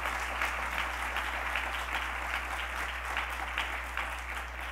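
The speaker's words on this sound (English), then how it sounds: "let's give them a round of applause." Applause from a lecture audience, a dense, even patter of many hands heard from a distance over a low steady hum, continuous throughout.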